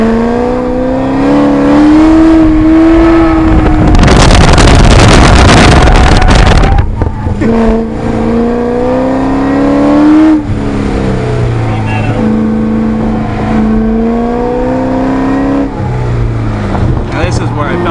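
Car engine with ProEFI engine management: a loud cabin drone rising and falling through gear changes, with a sharp burst of throttle blip during a downshift, under occasional talk.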